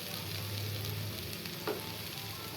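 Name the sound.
chopped tomato added to frying pan, sizzling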